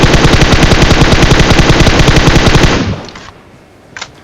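Rapid automatic gunfire in a first-person shooter game, a loud continuous burst of close shots for nearly three seconds, then faint scattered noises.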